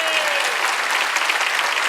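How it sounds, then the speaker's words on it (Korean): Sunday worship congregation in a church claps harder, a thick, loud wall of continuous applause with a faint voice briefly audible beneath it. "박수 치려면 세게 치라고."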